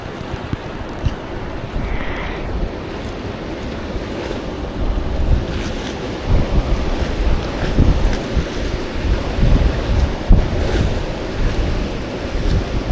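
Ocean waves surge and wash ashore at high tide on a fishing spot, a steady roar of broken surf with wind buffeting the microphone, continuous and fairly loud with no voices.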